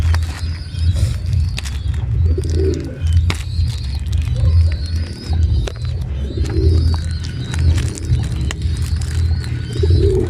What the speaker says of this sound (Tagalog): Sabi natin, buksan natin mga kalapatids.